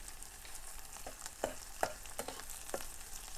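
Onion and green chilies frying in oil as the base for egg bhurji, producing a quiet, low sizzle dotted with several sharp crackling pops at irregular intervals.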